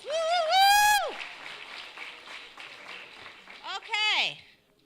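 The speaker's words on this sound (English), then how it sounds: "Give yourselves a round of applause." A crowd at a first-year orientation gives a round of applause mixed with whoops and cheering voices, loud at first, then fading.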